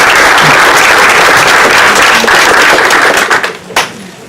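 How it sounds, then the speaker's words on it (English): Loud applause from an audience at a Salinas Union High School District board meeting, dense clapping close and sustained before thinning out into a few scattered final claps. "So let's give Arthur a round of applause."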